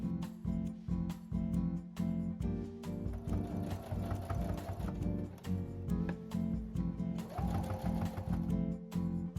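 A sewing machine runs steadily, top stitching closed the turned opening of a fabric cosmetic pouch, its rapid needle rhythm loud and continuous with brief pauses and speed changes, no voices present.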